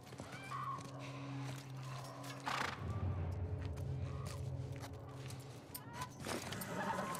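Horse in The Last of Us Part 1 video game, faint snorts and a brief whinny with scattered hoof thuds and shuffling, quiet and distant over ambient outdoor sound.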